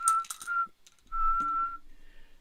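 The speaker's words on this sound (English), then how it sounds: "They blow the whistle 3 times." A referee's whistle sounds three times at full time of a Southampton vs Tottenham Hotspur match in APBA Soccer, with three clear, shrill blasts, the last one fainter.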